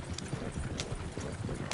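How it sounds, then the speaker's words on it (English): Horses gallop on open land, hooves clip-clopping in a quick steady rhythm close by under a low rumble of movement. "Horses won't go this fast for long."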